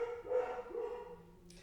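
A single dog barks a couple of times indoors, a muffled, moderately faint woofing followed by a softer whine, heard alone without talk.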